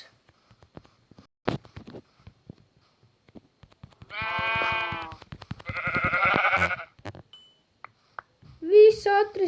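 In the Minecraft video game, sheep give two drawn-out bleats in a row, then another brief bleat at the end, with scattered clicks and taps of gameplay in between.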